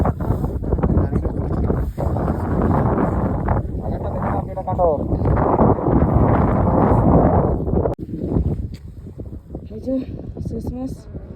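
Strong wind at snow-covered Gurudongmar Lake in Sikkim roars and buffets the microphone almost nonstop, dipping briefly once, with voices faintly heard under the gusts.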